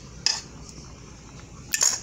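A utensil beats an egg-based ambrosia mixture in a pan, giving two brief metallic clinks against the pan about a second and a half apart, with quiet between them.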